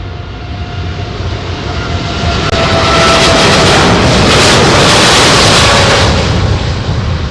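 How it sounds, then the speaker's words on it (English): A Boeing 777X airliner flies past at the Farnborough International Airshow, a loud, broad jet roar that swells and holds steady overhead, then begins to ease. "Here comes the 777."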